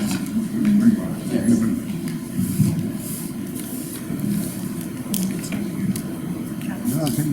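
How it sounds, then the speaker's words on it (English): Spring water poured into a blender in a home kitchen, a soft continuous splashing trickle running under a voice that talks throughout. "Just give me a little bit of spring water in here."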